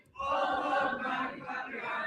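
A wrestling event crowd loudly cheers and shouts for the referee, a sudden swell of many voices that holds strong, dips briefly, then rises again.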